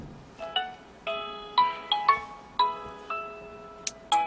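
Outgoing international phone call to China ringing, a repeating electronic ringback pattern of short tonal chirps spaced about half a second apart, clean and fairly loud with no talk over it.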